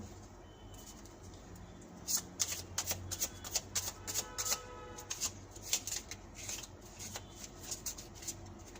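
Small reading cards being shuffled by hand close up, a rapid run of crisp papery riffles and flicks in uneven bursts over a quiet room background, with no one talking.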